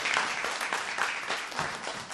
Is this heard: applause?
yes